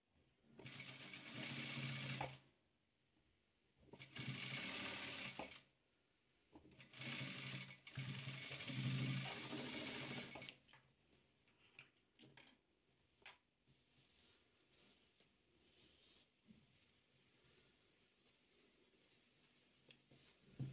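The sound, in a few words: sewing machine stitching patchwork fabric pieces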